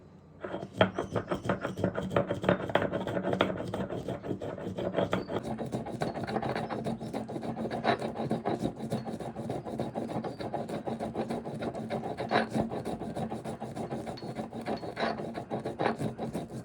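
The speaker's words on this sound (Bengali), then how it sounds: "এবার সর্ষে পোস্ত জলে ধুয়ে নিয়ে এর সঙ্গে দুটো কাঁচা লঙ্কা দিয়ে শিলপাটাতে বেশ মিহি করে বেটে নেব।" Mustard seeds, poppy seeds and green chillies being ground by hand on a stone grinding slab, a continuous rhythmic rasping scrape of stone on stone that goes on steadily throughout.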